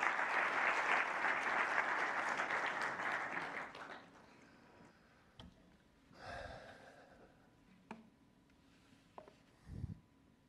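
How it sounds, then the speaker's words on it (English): Warm applause from a conference audience, dense and steady for about four seconds, then fading into scattered claps, rustling and a few faint murmurs. "A warm applause."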